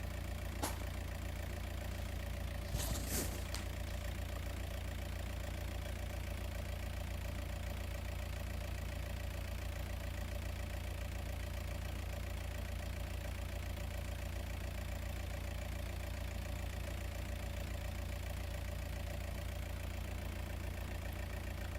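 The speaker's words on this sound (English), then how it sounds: "as you can see clearly here that the cylinder number 3 is misfiring." An engine idles with cylinder number 3 misfiring, a steady low hum with a faint, uneven rhythm and a couple of brief clicks early on, with no voices.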